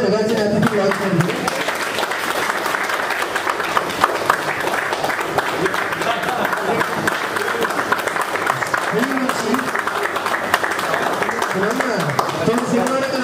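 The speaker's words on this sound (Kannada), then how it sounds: "ನಮ್ಮ ಮಾತ್ರ ಜೋರನ ಚಪ್ಪಾಳೆಯನ್ನು ಕೊಡೋದು" An audience applauds at the title launch of the Tulu film Pulimunchi; steady clapping runs underneath someone speaking over a microphone.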